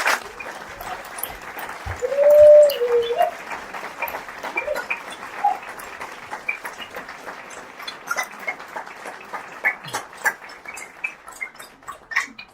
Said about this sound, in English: A big round of applause for Hasan Davis.